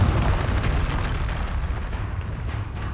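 Confringo spell explosions in Hogwarts Legacy, a sustained, rumbling, booming burst that stays loud and dense throughout, with no one speaking.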